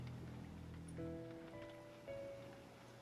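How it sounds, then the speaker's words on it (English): Steady rain hiss at sea in the naval game Victory at Sea, a broad wash under low engine rumble with a few faint tonal hums and beeps from the game. "It's raining though, unfortunately."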